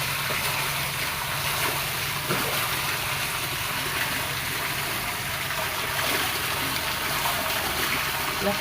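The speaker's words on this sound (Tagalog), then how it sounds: "Lumakas na po yung tubig." Water gushes steadily into a mini fish pond on a small farm, a constant, even rushing hiss that runs without a break from start to finish and sounds close by.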